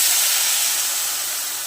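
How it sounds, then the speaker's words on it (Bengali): Water poured into a hot pan of fried browned vermicelli gives a loud, immediate steam hiss that fades gradually over a couple of seconds, with no talk. "একটু পানি দিয়ে দেব"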